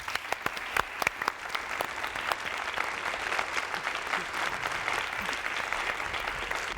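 Applause from an audience at a tribute event for Vicente Leñero: scattered sharp claps at first, quickly filling into steady, moderately distant clapping from a crowd.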